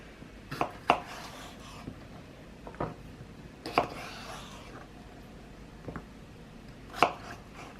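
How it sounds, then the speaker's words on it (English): A knife slices kimbap filling on a cutting board, with about half a dozen scattered sharp cuts and softer scraping between them, close and quiet. "I'm just gonna cut this in half and then cut"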